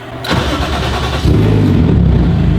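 A car's 1J engine cranks briefly, then catches and settles into a loud, steady idle close by.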